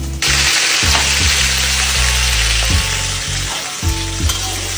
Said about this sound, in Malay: Cara-cara goreng.